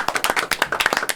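A small group claps for a ska-punk band during a live radio interview, a close, brisk run of distinct handclaps with an uneven rhythm, heard alone without talk.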